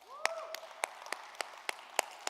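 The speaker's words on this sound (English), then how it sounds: "can we give another round of applause for Justin in his talk?" A few scattered, distinct hand claps from a tech conference audience applauding a speaker after his talk, fairly faint and sparse, with a brief voice at the start.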